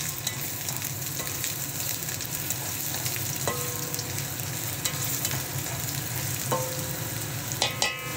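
Ginger frying in a pan for a mung bean vegetable dish, a steady close sizzle with occasional stirring scrapes and utensil clinks against the pan.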